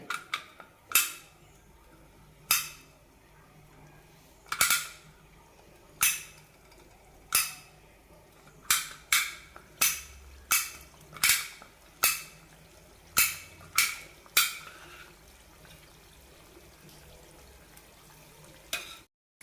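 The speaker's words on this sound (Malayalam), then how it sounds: "എണ്ണ ചൂടായിട്ടുണ്ട് ഇതിലേക്ക് പിഴിയാം" Millet murukku dough pressed into hot oil, a soft continuous bubbling hiss broken by about fifteen sharp crackling pops at irregular intervals, close and clear with no voices.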